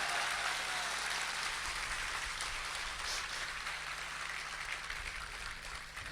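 An audience at a poetry recital in Kolkata claps steadily, a dense, even patter of applause that holds for several seconds and fades slightly toward the end.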